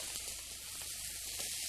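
Finely chopped onion and sausage frying in hot oil make a faint, even sizzle and crackle, with a few soft stirring ticks and no voices, in a short burst.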